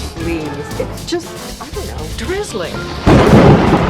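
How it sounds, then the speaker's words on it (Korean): Voices talk, then a loud rumbling crash of thunder breaks in with a burst of heavy rain near the end. "그리고 번개 폭풍 치는 날씨에"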